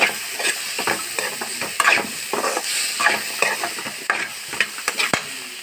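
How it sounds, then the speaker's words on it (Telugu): Boiled chickpeas and green gram stirred in a frying pan with oil for paneer rice, a steady crackling sizzle broken by repeated scraping stirs and clinks, close and continuous, no voices. "ఇప్పుడు మనమైతే ఉడకబెట్టుకున్న శనగలు మరియు పెసలు వేసుకోవాలి."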